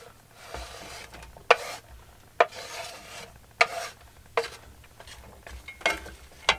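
Vegetables start frying in a little butter in a pan over a propane burner, a soft sizzle under scraping and stirring with a utensil, punctuated by several sharp knocks against the pan.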